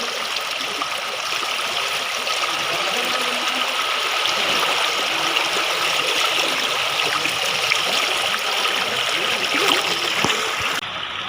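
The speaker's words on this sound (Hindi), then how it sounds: "पूरा फोर्स के कारण पानी इधर फैल रहा है।" Floodwater rushes with force through a flooded ward in Balaghat during monsoon river flooding, a loud, continuous broadband roar of spreading water that stays steady throughout with no pauses.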